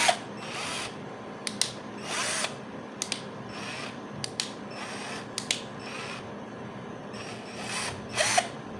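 An INGCO 12V mini cordless drill runs in short, uneven bursts with clicky mechanical ratcheting between them, fairly quiet and close, with no talking.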